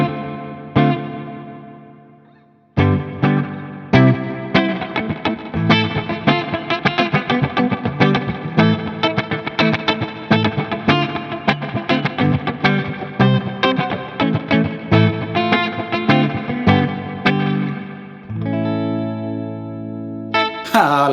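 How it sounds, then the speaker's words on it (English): Electric guitar played through a REVV Dynamis pedal with heavy reverb that trails like a delay, strummed and picked chords ringing with echoing repeats and chorus-like shimmer, loud and alone, ending in a sustained chord and a fresh strum. "as you can hear, especially if we increase the reverb even more, it's almost like there's some sort of delay happening as well"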